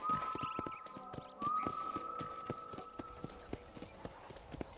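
Horse hooves clip-clop at a steady walking pace in the Red Dead Redemption video game, with a close, even rhythm, a faint tonal hum and a voice talking over it.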